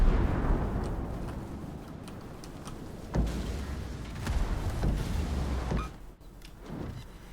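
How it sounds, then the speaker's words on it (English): Torpedo hits on warships in World of Warships, several heavy booming explosions arriving a second or so apart over a rumbling sea-battle background. "So you're going to get some torpedo hits here as well."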